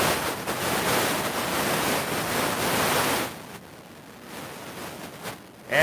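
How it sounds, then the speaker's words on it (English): Ocean waves breaking at an oceanfront, a broad wash of surf that rolls steadily for a few seconds, drops away, then returns with a fresh surge; close and fairly loud, no talk. "Take a second, soak up the sound of the ocean."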